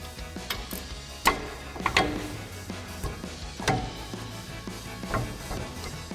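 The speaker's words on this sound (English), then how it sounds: "we're gonna grab our 13mm ratcheting wrench and take our 2 caliper bolts off" A 13mm ratcheting wrench clicks and ticks while removing brake caliper bolts on a 2009-2018 RAM 2500, with irregular metallic clacks and ratchet pawl chatter at close range and no speech.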